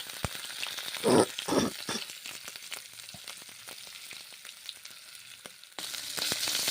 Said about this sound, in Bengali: মশলা এবং পনির এখন ভেজে নিচ্ছি